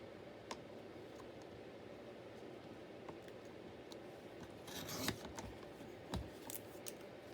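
Scissors snip through paper for a small scrap journal, making a continuous soft crunching rustle up close with a few sharper clicks of the blades near the end.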